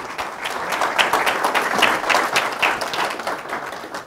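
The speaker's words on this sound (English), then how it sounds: "Let's have a big round of applause." A room at a Chino city council meeting breaks into applause, a continuous crowd of hands clapping at moderate loudness throughout with no clear speech over it.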